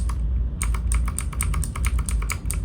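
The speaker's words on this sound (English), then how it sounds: "The keyboard is Optimo. But it sounds so great." Rapid clacking keystrokes on an Optimo computer keyboard, an irregular run of crisp taps after a brief pause, close and clear with no voices.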